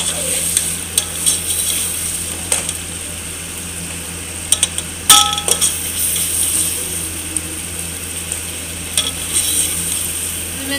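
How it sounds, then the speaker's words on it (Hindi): Steady sizzling in a pan with occasional scraping and stirring clinks, close and fairly loud, no talking. "3 से 4 मिनट तक मसाले फ्राई करूँगी।"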